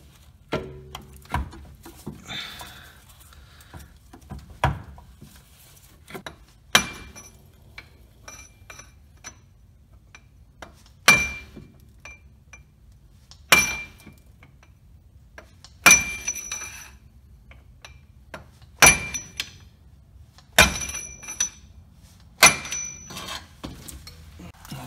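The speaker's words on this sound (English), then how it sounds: "I'm going from underneath the car using a hammer and a chisel, and going from the back." A hammer drives a chisel against the AC compressor clutch of a Honda Civic from underneath the car, about a dozen sharp metallic strikes at irregular intervals, close and loud over a quiet background.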